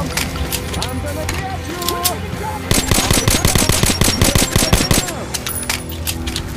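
Gunfire in the Metro Last Light video game at Red Square, sniper shooting among it, with rapid bursts of sharp shots, sparser at first and then dense and loud in the middle before thinning, with voices talking over it.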